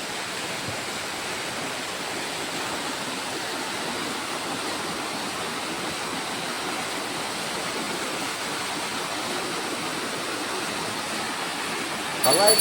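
A stream flows beside the Shiv Kunda temple with a steady, dense rushing wash that holds even and continuous throughout, close and fairly loud, with a brief louder burst at the very end.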